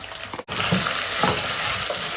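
Ginger garlic paste and turmeric sizzle in a pan for a bitter gourd curry, a steady close frying hiss with a brief break and soft stirring scrapes.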